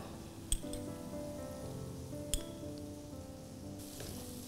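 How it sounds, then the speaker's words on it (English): Masala with chili powder sizzling steadily in a pan, a continuous soft frying hiss with a low hum beneath and two sharp clinks of a utensil against the pan. "The masala is cooking."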